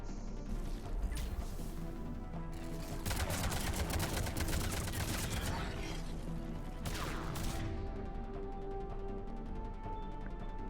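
Sustained bursts of weapon fire in Mass Effect 3, rapid crackling volleys with impacts that surge loudly mid-clip and again near the end, over a constant game soundscape.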